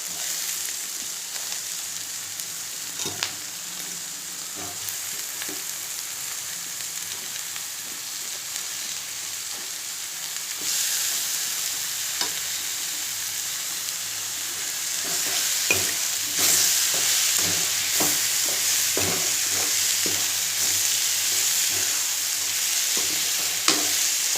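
Tomatoes fry in a pan with chili powder and ginger-garlic paste, giving a steady close sizzle with frequent scraping stir strokes that grow louder and busier partway through.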